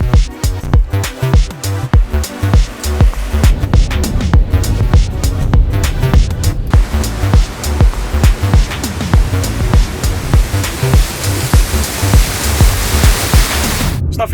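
A Range Rover Evoque P200 wading through deep UK flood water, a loud, continuous roaring rush of churning water and spray with rhythmic surges as the vehicle pushes forward.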